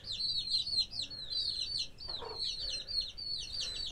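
A flock of backyard chickens eats scattered feed and cooked corn, giving off rapid high chirps and soft clucks that stay steady and fairly close throughout, with no talking.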